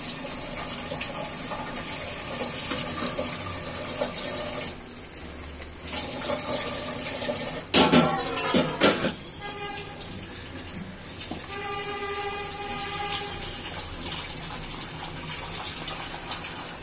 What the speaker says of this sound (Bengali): পানি অ্যাড করে দিলাম